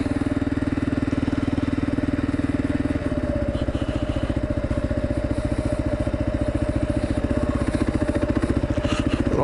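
A Kawasaki KLR motorcycle engine runs steadily nearby, a loud even single-cylinder thump that shifts slightly in pitch a few seconds in and keeps chugging throughout.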